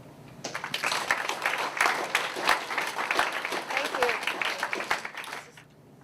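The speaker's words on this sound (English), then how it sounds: "Can we please have a warm round of applause for Laura?" An audience at a Walk to Defeat ALS event gives a warm round of applause for a speaker, clapping that starts abruptly, swells to a moderate level and stops near the end, with a brief spoken word partway through.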